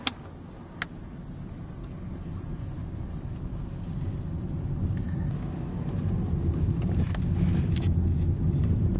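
A car drives along, likely with a phone running Bing Maps navigation inside, and a steady low road and engine rumble builds gradually and stays constant throughout.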